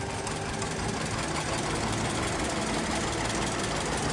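A 1946 Farmall B tractor runs at a heritage day parade in Newport, North Carolina, a steady, dense engine rumble with knocking texture, continuous and close, drowning out other sound.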